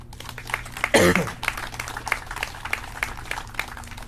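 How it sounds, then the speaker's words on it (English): Courthouse audience at a Native American Day celebration giving a round of applause, scattered clapping over a low hum, with a brief loud burst near the start. "Let's give them a round of applause."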